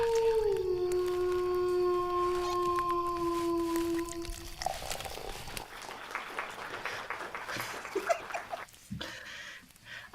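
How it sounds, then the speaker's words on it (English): A wolf howl sound effect rises and holds as a long, clear, wavering tone for about four seconds, then gives way to scattered clapping-like noise and clatter, played loud within a podcast. "lost me with the first wolf sound"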